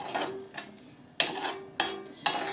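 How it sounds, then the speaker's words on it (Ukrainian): A utensil scraping and clinking against a pot as green borscht is stirred, with a few sharper knocks near the end. "Це все отак ще раз перемішую."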